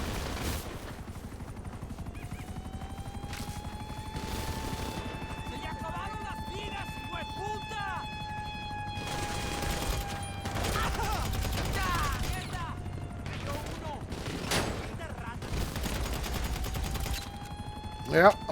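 Helicopters and gunfire during the Cayo Perico Heist in GTA Online: bursts of rapid automatic fire crackle and pop over a steady rotor drone, with a rising whine and a voice talking in places.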